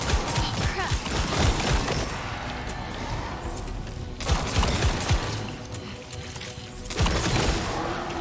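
Rapid video-game gunfire rattles in dense, loud bursts, pausing briefly around the middle and again later, with crashing impacts layered over the shooting.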